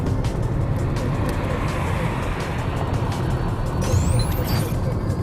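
The 1.8 TSI petrol engine of a 2011 Škoda Octavia Combi 4x4 drones steadily with road rumble while driving, heard from inside the car under a voice talking throughout.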